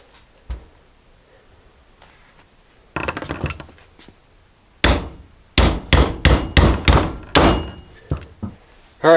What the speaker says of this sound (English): once you hit it enough, you'll start to see it come out on the end here